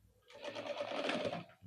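A sewing machine stitches Punjabi pyjama fabric in one short, faint burst of rapid whirring lasting about a second, with quiet before and after.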